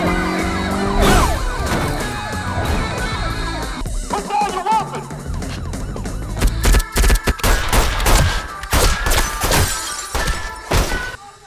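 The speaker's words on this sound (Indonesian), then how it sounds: "mereka terkepung oleh polisi, lalu membuat Darling meninggal akibat tembakan polisi." Chaotic action sounds with rapid bursts of gunfire, sharp cracks and shattering, over wailing sirens and a dense, loud background.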